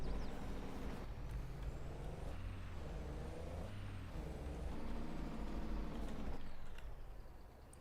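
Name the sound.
truck driving in Farming Simulator 22 video game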